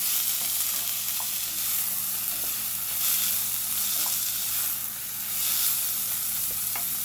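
Callaloo and saltfish seasoned rice stirred around a hot pan, a steady broadband sizzle with soft scraping strokes rising and falling every second or two, close and continuous with no voices.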